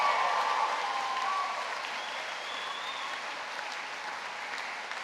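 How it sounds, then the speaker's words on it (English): A university graduation audience claps and cheers, a loud burst of dense applause with crowd shouts that gradually settles into steady clapping. "Can we have something a bit more rousing, please? Again, a proper cheer."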